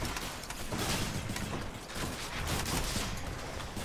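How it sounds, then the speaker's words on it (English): Cluster rockets explode in the video game Hades, a dense, continuous barrage of crackling blasts and mechanical clatter that fills the mix without a pause. "You shoot the rockets in these rooms and there are just explosions everywhere."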